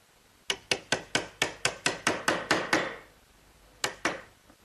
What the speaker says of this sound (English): So I'll clean out that area with a nice sharp chisel.